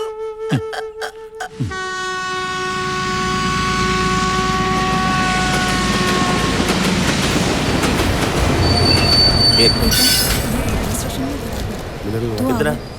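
A train passes on rails in a Malayalam film scene: sharp clacks come first, then a loud, sustained metallic wheel squeal with rumbling clatter and a horn-like tone, and voices are heard over the noise.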